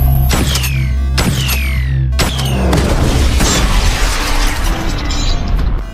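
A series of heavy, booming blasts in quick succession, loud and close, followed by rumbling debris and a lingering hum.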